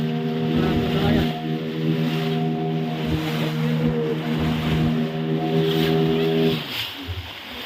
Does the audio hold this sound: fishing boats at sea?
yes